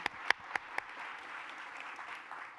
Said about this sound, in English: I think it merits a round of applause.